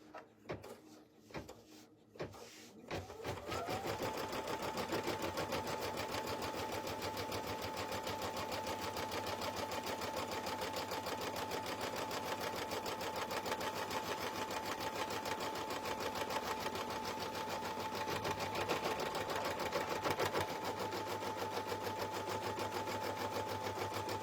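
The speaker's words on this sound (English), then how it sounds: "let's go ahead and do our placement stitch for this one" A home embroidery machine runs an in-the-hoop placement stitch for a slap bracelet, a steady, even mechanical whir with a constant tone after a few brief clicks and thumps at the start.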